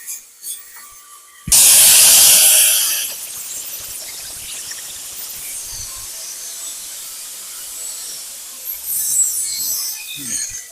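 Gouging the head of a weld joint on an RT welding job, with a sudden loud burst of hissing, spraying noise lasting about a second and a half, then a steadier lower roar that picks up again toward the end.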